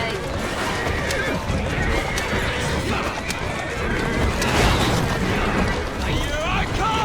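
Horse-drawn carriages in the video game Assassin's Creed Syndicate: horses whinny and hooves clip-clop over a dense, busy game soundscape with occasional booms, under steady voice chatter throughout.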